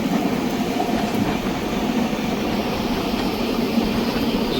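Steady rumble of a moving train in heavy rain, heard from inside with a constant low roar and faint rattling, no talking, in the Konkan region.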